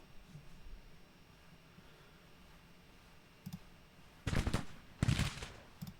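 Troops fire muskets in a Grand Tactician Civil War battle, with sparse scattered shots at first and then two dense volleys crackling close and loud over a low background rumble.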